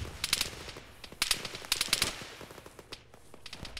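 Rapid bursts of automatic gunfire crackle from an Arma 3 battle, with several short volleys and scattered single shots at mid distance, without voices.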